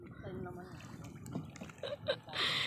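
A shot of liquor is poured during a drinking round in Quezon, a brief liquid trickle and fill under steady, close conversation.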